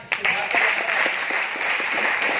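An audience claps loudly for mentors at a gathering, a dense, continuous burst of applause from a crowd that starts abruptly and holds steady.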